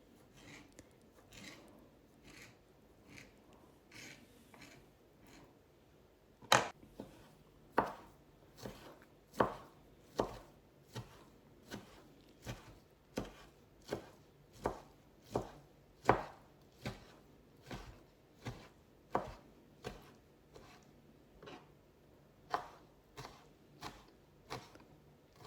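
A knife cuts sausage slices into strips on a board for German sausage salad, making about two dozen crisp, evenly spaced chops, soft at first, then louder and close.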